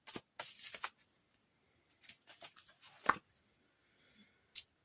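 Oracle cards being shuffled and drawn from a deck, with short papery riffles and soft taps in quick bursts, separated by quiet pauses, close and fairly faint.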